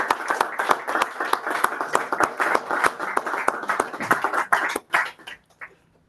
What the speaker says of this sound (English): More applause for Candy, please.